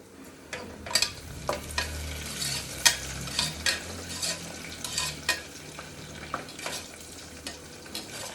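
Ingredients for chicken biryani being stirred in a cooker, with a spoon scraping the pot in irregular, fairly close strokes over a low, steady cooking rumble, no voices.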